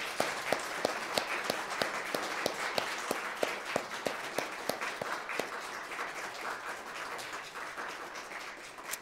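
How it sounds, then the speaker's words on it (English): A church congregation applauds a newly installed senior pastor at a Sunday morning service, steady clapping filling the room for the whole stretch, with faint voices scattered beneath it. "a lot of smiles as we clap and greet Pastor Mike as our new pastor"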